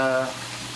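Water rushes through the drain pipe of a 235-gallon aquarium's sump, a brief close hiss that starts with a short tonal gurgle and settles into a steady fizzing flow.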